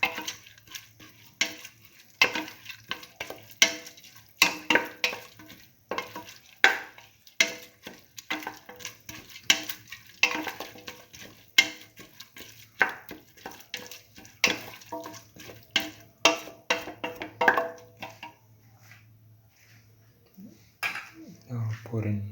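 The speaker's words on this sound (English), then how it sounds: "Thoroughly mix." Mung beans, tomato and rice mixture stirred in a cooking pot, with a steady run of spoon scrapes and knocks against the pot, some light clinks and a low hum underneath.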